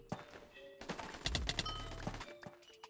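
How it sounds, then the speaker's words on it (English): Headshot hit sound in the Krunker first-person shooter game: a sharp impact thunk among quick gunfire pops and clicky game effects, with a brief low thud underneath. "even the headshot sound"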